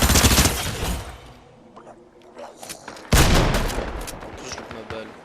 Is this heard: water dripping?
no